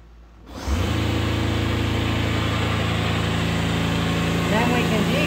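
Electric motor of a gas wave runner converted to electric power starts up after a moment of quiet, then runs as a steady, even hum that holds for the rest of the clip.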